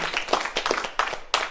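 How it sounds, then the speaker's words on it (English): A small group claps at a live event, a few sharp irregular bursts of applause close by, rising and falling over a brief moment. "have a little applause for the absolute butt kicking work to get you this stuff"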